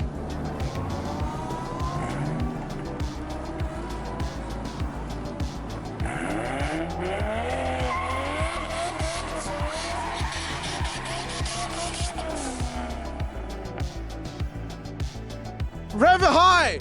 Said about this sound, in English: You gotta rev it high.